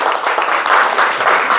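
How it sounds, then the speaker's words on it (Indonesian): A class of schoolchildren claps together on a teacher's cue, a dense, steady burst of applause lasting under two seconds with no pause. "tepuk tangan semuanya"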